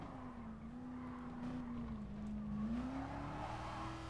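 A 1979 nostalgic race car in Gran Turismo Sport holds a steady, droning engine note that rises and dips slightly under throttle through a turn, loud and continuous throughout.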